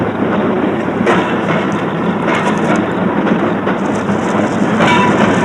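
A train wagon rolls along rails in an action film scene, a loud continuous rumble with rhythmic clattering bursts from the wheels and no speech.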